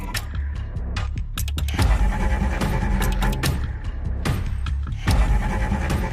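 A car starting up and pulling away, its engine running steadily under clicks and thumps of doors or windows, heard close and fairly loud without talk.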